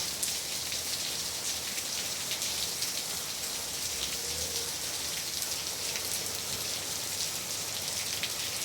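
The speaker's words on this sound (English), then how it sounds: "Got some big raindrops coming down." Big raindrops pour down in a heavy rainstorm, a steady dense hiss of rain spattering on surfaces throughout, loud and close, with no talking.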